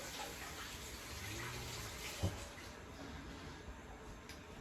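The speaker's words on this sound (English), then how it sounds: "Now I got to wash my hands again." Hands being washed under a running kitchen tap, a steady soft rush of water running throughout at low level, with a faint knock partway through and no talking.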